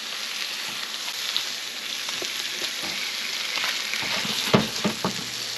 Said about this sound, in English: You don't want to brown the butter. Just get it nice and melted.